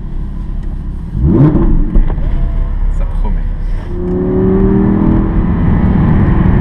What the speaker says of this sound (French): Déjà on va entendre le bruit du moteur.